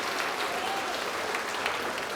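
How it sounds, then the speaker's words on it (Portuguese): Church congregation applauding together in a steady, dense wash of clapping, continuous and moderately loud, without speech over it. "Vamos aplaudir bastante ao nome de Jesus."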